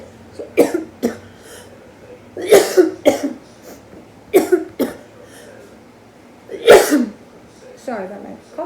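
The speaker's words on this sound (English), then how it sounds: "Sorry about my cough." A woman coughs repeatedly indoors, about half a dozen sharp, close bursts spaced irregularly, some in quick pairs, with a bit of quiet speech near the end.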